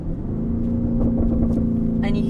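A Mansory-tuned Lamborghini Urus SUV of more than 800 horsepower drones steadily from inside the cabin, its exhaust giving a low, gurgling burble that builds slightly as the engine revs, with someone talking over it.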